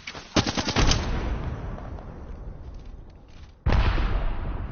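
Automatic gunfire rattles in an Apex Legends battle royale match, with a rapid loud burst near the start, a lingering rumbling tail, then a second heavy volley of shots near the end.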